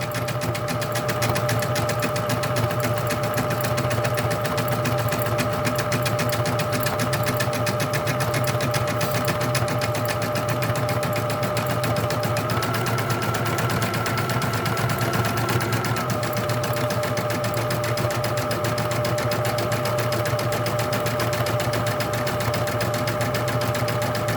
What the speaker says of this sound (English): And now it's going to start the satin stitch.